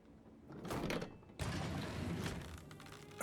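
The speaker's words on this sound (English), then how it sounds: "A hidden door. It's a secret passage." A hidden door to a secret passage opening in a video game, a creaking, grinding mechanism that starts, pauses, then rumbles on steadily before a sharp clunk at the end, close and alone.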